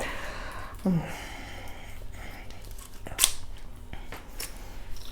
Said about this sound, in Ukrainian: порвала той пакетик